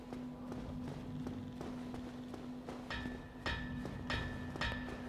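Rhythmic metallic clanks of a blacksmith hammering in the Dark Souls video game ring out at a steady pace, growing sharper and louder toward the end over a constant low ambient hum.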